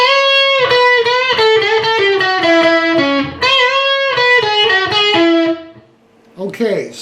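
Electric guitar playing a distorted riff, loud and sustained with repeated rhythmic phrases, pausing briefly near the end before a short burst of picking.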